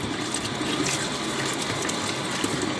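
Warm water running steadily from a tap over a head of cauliflower, a continuous close splashing hiss with no pauses.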